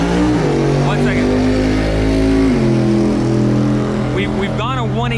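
A drag race car making a quarter mile pass, heard as a loud sustained engine drone that shifts pitch about halfway through and then climbs again, with people talking over it.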